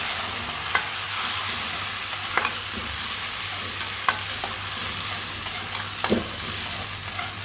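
Potatoes and onions frying in a pan for a vegetable pulao, giving a steady soft sizzle with occasional sharp clinks and scrapes of a stirring spoon.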